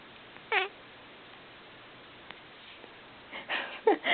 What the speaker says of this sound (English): That's a really cute kitty.